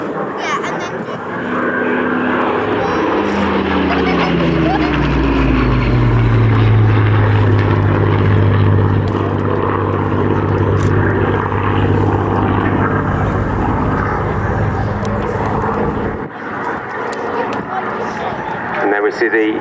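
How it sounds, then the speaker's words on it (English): An RAF Spitfire flying a display at the RAF Cosford Airshow 2022 pulls up into a half horizontal and a descending left-hand turn, its loud, continuous piston-engine and propeller roar sweeping in pitch as it passes. "And then we see the Spitfire pulling up into the manoeuvre that we call the half horizontal into a descending left-hand turn."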